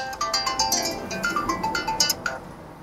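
A phone rings with an incoming call, heard through a Bajaj Pulsar motorcycle's paired display: a repeating bright melodic ringtone of short pulsed tones, steady and moderately loud, with no talk over it.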